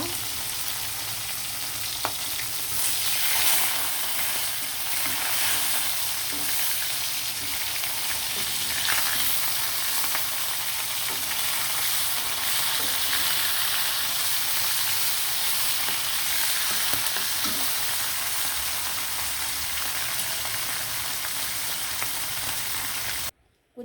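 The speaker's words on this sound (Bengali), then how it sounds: "কুচি কুচি করা পেঁয়াজ দিয়ে দিলাম পেঁয়াজটা বাদামি কালার হয়ে আসলে" Chopped onions frying in a pan, a dense, steady sizzle close up with faint occasional stirring clicks, no voices, cutting off abruptly at the end.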